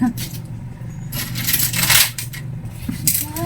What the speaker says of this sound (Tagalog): Ay, nakadami kong barya guys, pero okay lang.